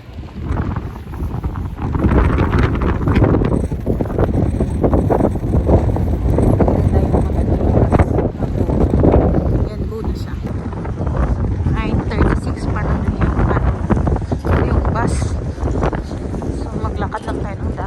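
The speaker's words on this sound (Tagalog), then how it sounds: "Kaya lakas ng hangin. Kaya parang may snow na kasama." Strong, continuous wind during a snowfall in Edmonton buffets the microphone with a loud, steady roar, gusting throughout.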